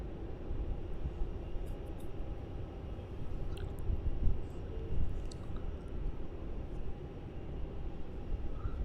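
An Airbus A330 airliner at Melbourne Airport produces a steady, distant broadband jet roar that swells and fades slightly, with faint scattered ticks and clicks over it.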